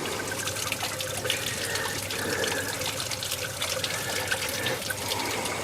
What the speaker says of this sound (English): I can see nice clean water coming out.